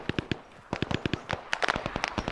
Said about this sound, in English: Are we taking hostile fire rear, or is that friendly?